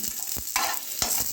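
Soya chunks and green chillies fry in hot oil, a close hiss of sizzling broken by a few sharp scrapes and stirring knocks, brief and without any talk.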